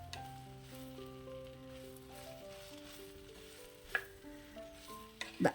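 Quiet stirring and scraping of taro stems in a pan over a soft sizzle, with a couple of sharper clinks of a utensil near the end.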